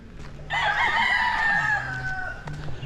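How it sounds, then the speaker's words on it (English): A loud, close rooster crow rings out in one long drawn call, with softer clucking from other fowl around it. "Roosters are being loud this morning."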